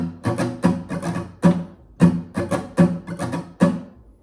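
Acoustic guitar strummed in a steady picking-and-strumming pattern for a song, about eight close, evenly spaced strokes with ringing chords and no voice.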